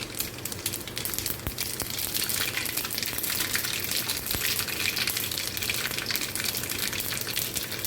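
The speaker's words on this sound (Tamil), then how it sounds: "எண்ணெய் காஞ்சதும் கடுகு போட்டுக்கோங்க" Mustard seeds splutter in hot oil in a South Indian kitchen, a steady loud hiss and crackle with scattered sharp pops throughout.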